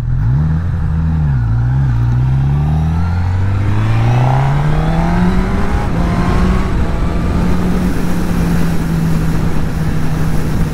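A 2023 Honda CB1000R motorcycle engine drones steadily and loudly, its pitch sweeping up and down as the rider works through a bumpy, twisty section of road, with constant wind noise.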